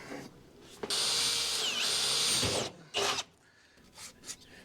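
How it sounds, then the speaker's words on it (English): A loud power drill with a hole saw grinds steadily into exterior siding for about two seconds, then a couple of shorter bursts follow. "Holy cow, that's terrible, terrible, terrible hole saw."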